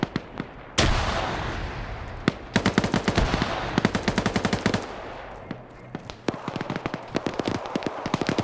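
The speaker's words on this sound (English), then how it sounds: "Throwing grenades back and forth here." Explosions and rapid bursts of gunfire in a video game battle as grenades are thrown back and forth, sharp repeated cracks and booms in clusters and rattling volleys, fairly loud.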